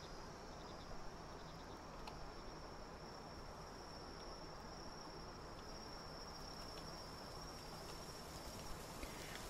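Bees in the video game Palworld give a steady, thin insect buzz that runs unbroken the whole time over a dense background hum, with no talking.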